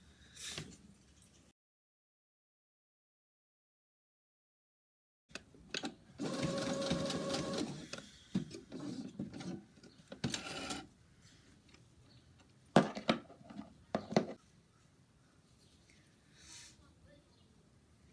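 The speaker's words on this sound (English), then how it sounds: "I'm gonna top stitch all the way around the whole mask" A sewing machine top stitches around the edge of a fitted fabric face mask in a quiet room, its motor running in a steady burst of a few seconds, then a few short runs, with a few sharp clicks and a voice speaking in between.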